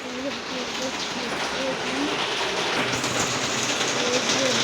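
Rain falls outside in a steady, dense hiss that stays loud and even throughout, close and continuous with no pauses.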